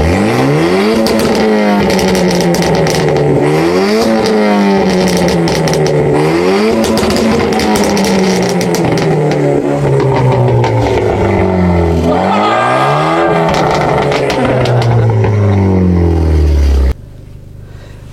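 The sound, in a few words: Renault Clio RS Trophy engine revving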